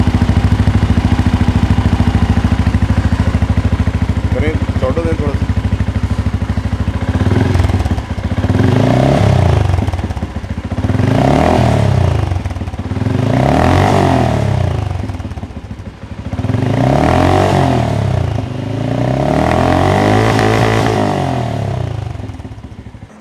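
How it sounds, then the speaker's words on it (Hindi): Benelli Imperiale 400 single-cylinder motorcycle engine idles close by with a steady thump, then revs repeatedly in rising and falling bursts; a voice briefly speaks early on. "आपको उसकी साउंड भी चला के सुनाऊंगा ताकि आप लोगों को आइडिया हो कि it's not a bad sounding motorcycle at all"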